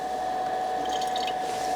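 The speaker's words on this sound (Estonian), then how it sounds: "Loputan ära ka siis doseerimisnõu." Water splashes and swirls steadily as a dosing cup is rinsed while mixing a plant protection solution for a hand sprayer, a close, continuous wet wash with no talking.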